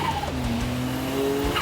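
A Japanese mini truck spins its wheels at close range in a competition run, the engine revving hard under a steady, loud whine of tyre squeal, with no talk.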